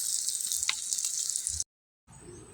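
Garlic, onion and ginger sizzle steadily in a hot pan, a close, bright frying hiss that breaks off briefly and then resumes.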